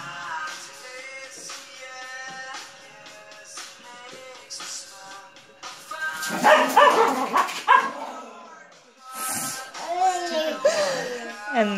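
Caged dogs bark and yip repeatedly, some whimpering, loud and close, mixed with people talking over them.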